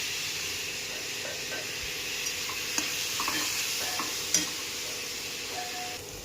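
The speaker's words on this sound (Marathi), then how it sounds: "टोमॅटो चांगले परतून घेऊया." Tomatoes sautéing in a pan for a spicy soya filling, a soft steady hiss of frying with occasional light clicks and scrapes of stirring.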